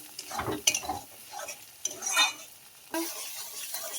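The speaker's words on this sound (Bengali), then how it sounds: "মশলাটা আমার কষানো হয়ে গেছে" A spoon stirs masala with chilli powder and salt as it fries in a pan, giving irregular scraping strokes over a soft sizzle, close and clear.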